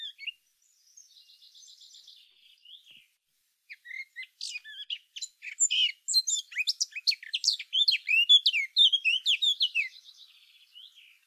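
A blackcap, also called the mock nightingale, gives a few scattered high chirps at first, then breaks into a rapid, warbling song phrase outdoors, clear and alone against silence.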